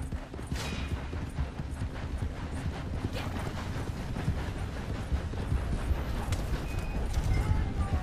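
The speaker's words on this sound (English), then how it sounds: "pinche caballo está hasta la verga de loco" Horse galloping in the video game Red Dead Redemption 2 Online, a steady rapid hoofbeat rhythm running throughout, fairly loud over background game noise.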